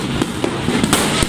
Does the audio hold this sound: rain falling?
no